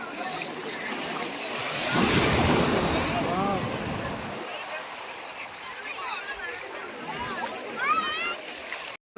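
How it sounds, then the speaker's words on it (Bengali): Large sea waves roll in and crash on the beach at Gangasagar, a loud surging wash that swells midway and recedes, with wind and people talking over the surf. "মারাত্মক লেভেলের ঢেউ"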